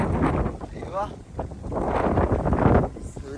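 Strong gusty wind rumbling over the microphone, rising and falling, with faint voices under it, on the Ilaveezhapoonjira hilltop in Kottayam, Kerala.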